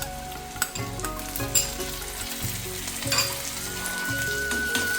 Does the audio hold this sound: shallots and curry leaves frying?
yes